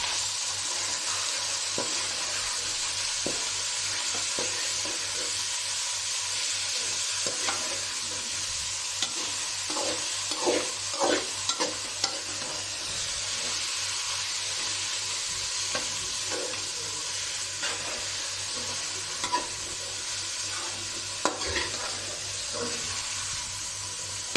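Bitter gourd (karela) sizzling and frying in a pan while being stirred, a continuous hiss with scattered spatula scrapes and clinks, close and steady without talking.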